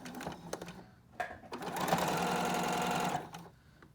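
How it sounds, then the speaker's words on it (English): A sewing machine stitches a long seam on a fleece hat: a few short taps, then a steady continuous whir at close range that runs for over a second before it stops. "And finally we get to do a long seam"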